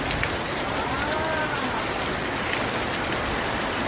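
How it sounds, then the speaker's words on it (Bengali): Heavy rain pours down in a dense, steady hiss that fills the whole span at an even, loud level, with no voices over it. "আপনারা তো দেখছেন, খুব জোরে বৃষ্টিটা পড়ছে।"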